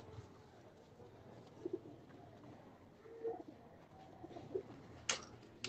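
Pigeons on a rooftop cooing softly in a few short, scattered calls against faint outdoor background noise, with a brief sharp sound near the end.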